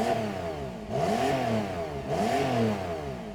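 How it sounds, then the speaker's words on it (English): Porsche 911 Carrera S 991.2 flat-six on a cold start, blipped twice with the accelerator: each rev sweeps up then falls back to a high idle, close and clear with no talking. "I'll just press the accelerator as the revs drop slightly."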